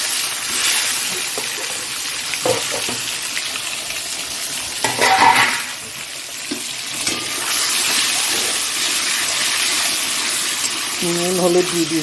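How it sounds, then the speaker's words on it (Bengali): Eggs frying in a pan of oil seasoned with salt and turmeric give a steady, fairly loud broadband sizzle, with stirring clatter and brief bursts of louder spitting; faint voices come through now and then. "এইবার ডিমগুলো একটু ভাজা করবো"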